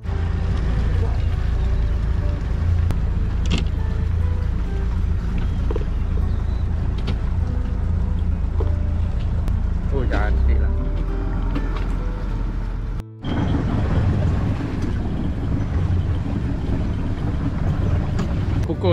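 A fishing boat heads out from its harbour base toward open sea, its engine a steady low rumble with wind and water noise throughout, a brief cut near the middle, and a voice speaking briefly over it.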